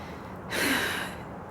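One heavy, breathy exhale, like a gasp or sigh, from a woman winded by wading through thick, deep snow, close and alone, rising and fading within about a second.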